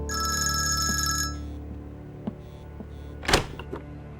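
A telephone rings in a room, a bright electronic trill lasting about a second before cutting off, followed by quiet room noise and a few small clicks and a brief bump.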